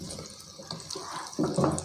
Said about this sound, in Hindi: 1 या 2 घूंट पानी बस ऐड करना है।